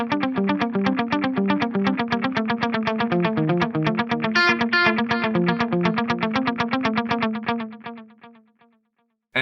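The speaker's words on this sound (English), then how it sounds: "it's going to give me something akin to like an old analog delay" Axe Fx III analog-style delay with a low-pass filter on a guitar: a rapid picked, distorted line repeats in darkened, softened echoes that trail away into silence before a final attack.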